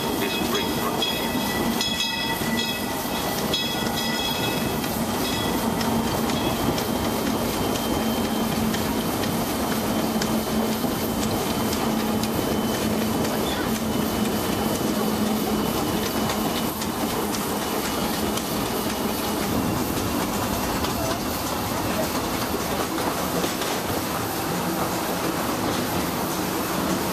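The Disneyland Railroad train rolls steadily along its tracks with a continuous rumble and rhythmic clickety-clack of wheels, some metallic squeal and rattling, heard from on board throughout.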